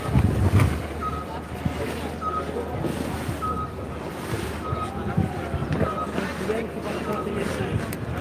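Wind blowing outdoors in Madrid, Spain on a cold day, a steady broad rushing and buffeting against the microphone, with a faint repeating tone and occasional low thumps, no talk.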